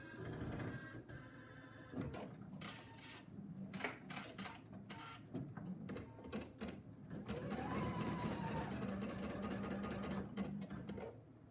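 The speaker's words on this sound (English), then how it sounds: "I want to start my machine because it's going to stitch the basting stitch around" A Pfaff Icon sewing machine runs a basting stitch around an embroidery hoop, a rapid mechanical whir with clicks and brief pauses, close and fairly quiet, alone without talk.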